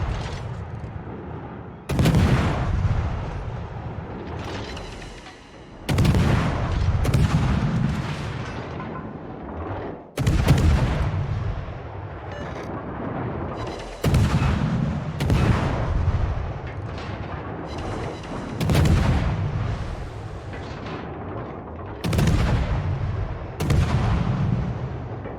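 Heavy gunfire booms in a ranked online shooter match. Loud, reverberant shots and blasts come in irregular bursts every few seconds, with a rumbling tail between them and no voices.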